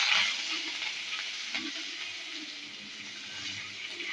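Curry leaves sizzle in hot oil with mustard seeds already added, tempering for dhokla; a steady, bright frying hiss holds throughout, close and alone with no talk.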